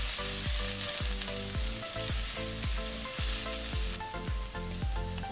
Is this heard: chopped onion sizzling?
yes